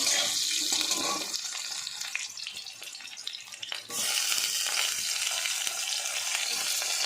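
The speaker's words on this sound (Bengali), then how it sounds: "আলুটা দিয়ে একটু নাড়াচাড়া করে নেব।" Potatoes stirred and fried in a pan, a continuous close hiss of frying that dips briefly midway, then returns at full strength, with faint scraping of the utensil and no talking.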